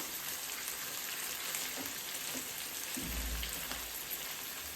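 Eggplant coated in masala frying in oil, giving a steady soft sizzle and crackle throughout with a few faint stirring knocks, close by and with no one talking.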